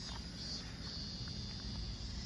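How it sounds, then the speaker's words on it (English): A continuous high-pitched cicada drone fills the air on Sado Island, Niigata, Japan, during the Earth Celebration festival, steady and buzzing in the trees, with low outdoor rumble beneath. "You can hear the cicadas chirping behind me."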